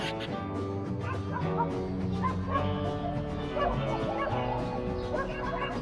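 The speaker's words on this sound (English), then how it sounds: "Dogs attacking the horse." Dogs bark, yip and whimper in a rapid, overlapping burst while attacking a horse in countryside near Videle, Romania, fairly close and continuous over a busy background.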